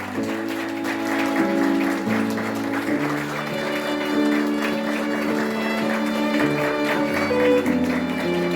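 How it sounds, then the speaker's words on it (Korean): Guests applauding at a wedding ceremony in a hotel ballroom, steady clapping throughout, blended with a piano trio playing the bride's entrance music. "여러분 박수로 부탁드리겠습니다."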